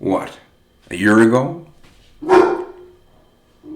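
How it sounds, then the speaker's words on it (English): A pet dog barks a few times indoors during a home video call, with short separate yelps spaced apart while someone talks between and over them. "That's my dog giving me trouble."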